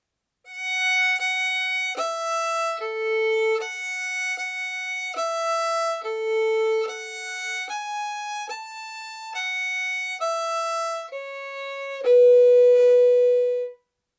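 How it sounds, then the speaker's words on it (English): Smooth, connected bowed notes on a violin, each sustained and flowing into the next at a steady pace, ending on a longer held low note. "The notes with the legato sound like this."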